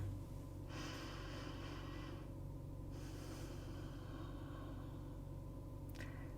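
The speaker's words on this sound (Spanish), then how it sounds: "Una respiración profunda con nuestra cabeza." A person takes a slow, deep breath, heard as two long, soft airy passes close to the microphone in a quiet room.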